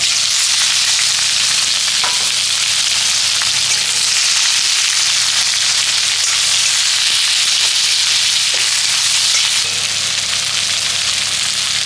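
Chopped onion frying in hot oil: a loud, dense, unbroken sizzle held at a steady level throughout, close up and with no talking.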